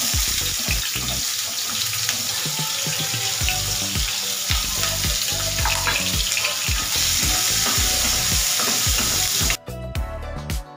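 Chopped onion sizzling and crackling steadily in a hot oiled pan for a dhaba-style paneer masala gravy, loud and close, with occasional stirring clinks; the frying cuts off sharply near the end into brief clattering.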